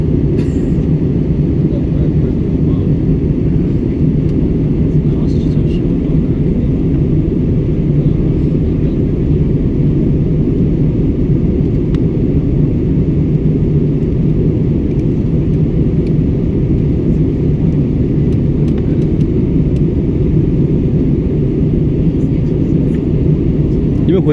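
A loud, steady airplane cabin drone during landing fills the whole stretch with an unbroken low rumble, and passengers chat faintly beneath it.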